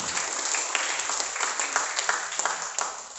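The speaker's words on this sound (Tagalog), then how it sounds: "Yung masaya dahil sa pagbibigay, pumalakpak ng malakas sa ating Panginoon" A church congregation claps loudly during a sermon on generosity, a dense, continuous burst of many hands with sharp individual claps standing out throughout.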